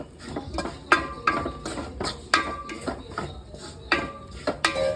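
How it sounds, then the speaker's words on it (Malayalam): A spoon stirs chicken masala powder in a pan, making repeated sharp metallic clinks and scrapes in an uneven rhythm, close and fairly clear, with no talking. "എല്ലാം കൂടി ഇട്ട് നന്നായിട്ടൊന്ന് ഇളക്കി കൊടുക്കുക"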